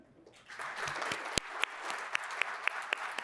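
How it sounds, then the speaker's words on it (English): Applause from a civic club audience swells in after a quiet start and continues as a fairly close, steady patter of clapping, with a few sharper individual claps standing out. "I want you to give them all a round of applause."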